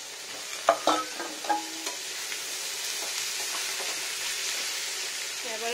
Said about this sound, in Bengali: এবার আলুটাকে দিয়ে নেবো ফ্রেন্ডস, বয়েল আলু।